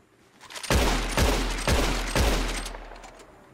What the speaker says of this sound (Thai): ใช่มันยิงรัวๆท่านเดี๋ยวข้าสาธิตให้ดู